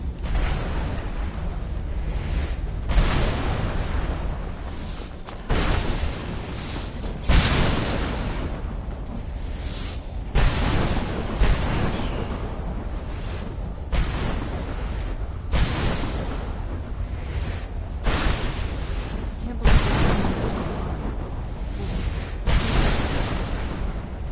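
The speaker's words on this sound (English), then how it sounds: "It's a nice big, satisfying exploding." Big explosions from a weapon in Skyrim go off one after another, each a loud booming burst with a rumbling tail, spaced every couple of seconds and heard alone without talk.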